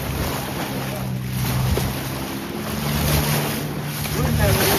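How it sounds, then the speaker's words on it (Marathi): A boat moving on the open sea near Nivati lighthouse, with steady engine drone, wind buffeting the microphone and wash of waves running continuously throughout. "बोट आमका सोडून चाललेली"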